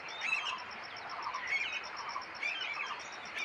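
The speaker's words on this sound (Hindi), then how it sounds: "और बर्ड्स की आवाज़ भी आपको सुनाई दे रही होगी।" Birds chirp and tweet in the morning outdoors, with steady high calls and a soft insect hum underneath, fairly faint and distant, no talk.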